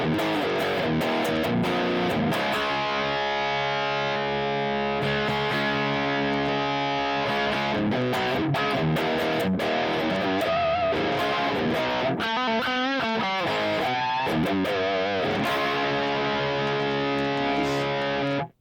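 Electric guitar through a Tube Screamer overdrive, drive low and level up, playing a continuous, loud overdriven riff with sustained chords and quick bends, ending abruptly.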